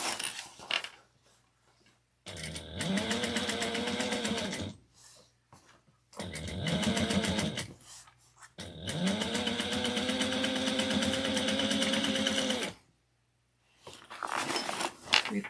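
Sewing machine stitching in close, loud bursts of rapid, even needle strokes, pausing briefly between runs as the fabric is repositioned, with quiet gaps in between.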